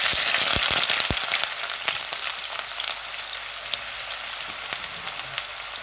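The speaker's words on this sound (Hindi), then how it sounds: "ऑयल हमारा गर्म हो चुका है। अब हम इसमें प्याज ऐड कर लेंगे।" Onions hit hot oil in a chicken karahi with a loud, crackling sizzle, sharp pops at first, then settle into a steady hiss with scattered spatters.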